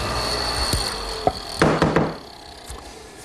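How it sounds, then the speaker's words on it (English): Hollow chisel mortiser, fitted with a 3/8 inch chisel set about 1.5 inches deep, plunging into wood: a few dull knocks and a short grinding bite, then release, close and moderately loud. "when the mortising chisel passes in, it follows exactly on the layout line"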